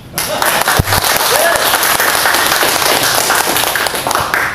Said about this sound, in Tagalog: Yung palakpak ng maraming tao.